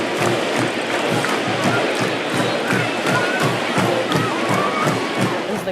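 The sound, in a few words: football stadium crowd roaring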